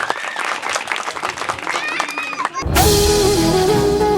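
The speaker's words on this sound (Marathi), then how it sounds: "जोरदार टाळ्या झाल्या पाहिजे" A person speaks, then loud, sustained applause from a crowd at a quiz competition in Mhaisang breaks out and continues to the end.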